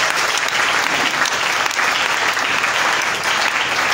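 A church audience applauds in steady, dense clapping that stays loud for the whole stretch, with only faint voices under it.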